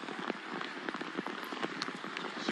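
Heavy rain pours steadily during a rugby match between the Black Ferns and the USA, a dense, continuous patter with scattered sharper drops and no voices.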